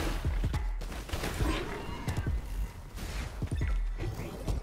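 Bursts of gunfire in the video game Wuthering Waves come in quick clustered volleys, loud and close, several rapid rounds of sharp cracks separated by brief gaps, with game music underneath.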